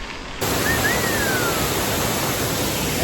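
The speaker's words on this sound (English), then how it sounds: "there's just waterfalls everywhere" A waterfall and high, rain-swollen river at Buttermilk Falls roars as a steady, loud broadband rush that starts abruptly and holds without a break.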